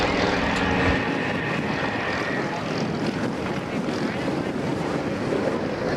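A 420-horsepower Yak propeller aerobatic plane at the Dover AFB airshow roars loudly and steadily through a double Immelmann, heavily buffeted by wind noise, with faint commentary underneath.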